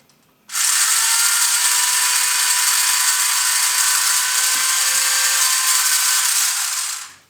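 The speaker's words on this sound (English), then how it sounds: "what we're going to use is our trusty mini drill" A mini drill drilling a pilot hole in a metal tank model barrel whirs at a steady high pitch for several seconds, starting abruptly and winding down at the end, close and loud with no talking.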